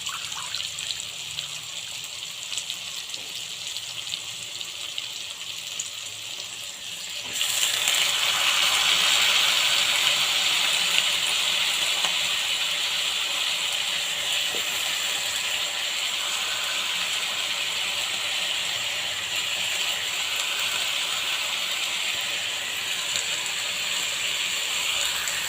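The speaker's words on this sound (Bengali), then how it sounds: "শাকটাকেও একটু ভেজে নিতে হবে।" Malabar spinach is dropped into a hot pan for a shrimp dish and stirred. After a quiet stretch a sudden loud sizzling hiss bursts up and keeps going steadily, with faint scraping underneath.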